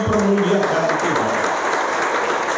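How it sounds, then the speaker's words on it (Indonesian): Church congregation claps together in praise during a sermon, a full, continuous burst of applause mixed with voices across the short stretch. "Berikan tepuk tangan mempermuliakan Tuhan."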